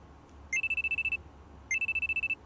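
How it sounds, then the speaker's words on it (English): A phone alarm from the video game Steins;Gate goes off in two bursts of rapid, evenly spaced electronic beeps, each burst about half a second long, loud and clear over a quiet background. "I'm sleeping on the couch when a loud alarm rings in my ears"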